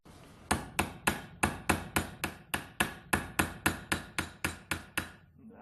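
Hammer blows on a chisel against an aluminium brazed joint, about eighteen sharp, evenly spaced metallic strikes, loud and close with nothing else over them.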